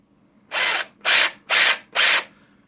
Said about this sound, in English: that sounds like it'd do a good job